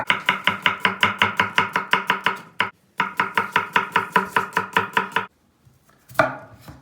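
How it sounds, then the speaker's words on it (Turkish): Rapid, steady knife chopping of onions on a cutting board, close and loud, in two long rhythmic runs separated by a brief pause. "Malzeme doğramaya başlıyoruz."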